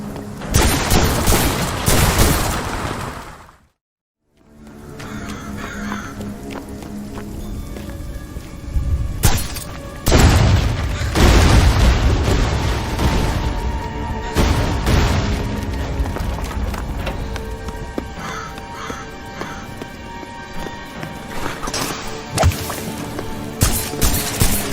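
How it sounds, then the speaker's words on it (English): Wrist crossbow in the video game Graven fires in repeated sharp thwacks, layered among loud booms and heavy impacts, with a brief near-silent gap early on before the dense combat sounds resume. "This is one of the first weapons you can pick up in Graven, the wrist crossbow."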